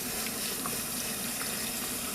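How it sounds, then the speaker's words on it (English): Running water from a salon sink tap rinses curl booster out of hair during a curl perm, a steady broadband splashing and hiss held at an even level throughout with no voices. "cupping the water so it doesn't splatter everywhere, because it has that tendency"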